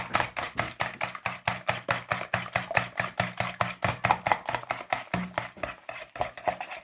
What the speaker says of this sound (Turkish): Bu 6 tane yumurtayı çırpıyoruz arkadaşlar